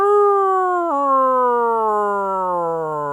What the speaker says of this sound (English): That was like a sick siren.